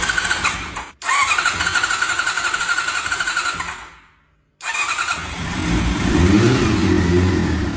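A Honda CBR motorcycle, restored after four years idle, cranks and fires into a buzzy running idle, cuts out into near silence, then restarts with a louder, rougher engine roar to the end.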